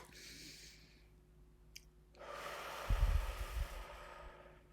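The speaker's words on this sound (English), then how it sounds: "taking in a deep breath" A deep breath drawn in during a guided breathing exercise with hands placed beneath the ribs: a soft, steady rush of inhaled air lasting a couple of seconds, close to the mic, with a few low bumps partway through.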